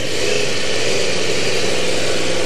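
A 2015 Yamaha YZF R1M motorcycle engine runs loud and close, holding a steady, dense roar throughout with no talking.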